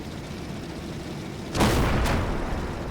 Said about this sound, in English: the Panzer IV did take a shot, but it flew high